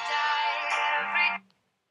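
Phone ringing indoors, a bright electronic ringtone with a dense harmonic chime that plays for about a second and a half, then stops abruptly into silence.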